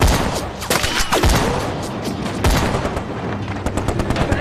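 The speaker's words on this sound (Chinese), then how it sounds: "敌人在钟楼上，看不清有多少人。 不动， 至少2挺机枪。" Rapid bursts of machine gun fire from at least two guns in a war film battle against enemies in a bell tower, loud and sustained with sharp cracks and booming impacts over the full length, no talk.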